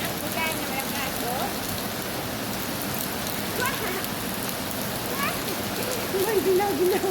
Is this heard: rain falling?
yes